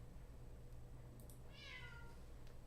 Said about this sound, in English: my cat is so noisy